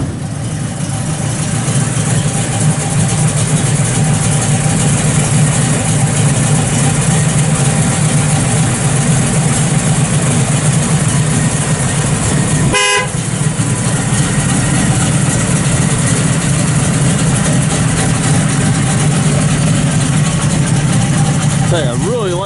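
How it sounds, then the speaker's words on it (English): A 1969 Chevrolet Camaro Z28 V8 idles steadily and loudly at close range, a deep continuous rumble broken by one sharp click midway. "Nice throaty little motor in it."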